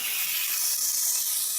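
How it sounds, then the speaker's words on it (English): Apples frying in a pan give a steady, bright hiss that holds evenly through the moment, with no voices. "I'm getting ready so you can hear the sizzling of the apples going into the pan to fry."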